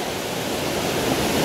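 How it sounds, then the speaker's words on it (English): Water of the Livière river in Dominica rushes steadily, a loud, broadband, continuous roar like nearby rapids with no pauses and no talking. "This is the river."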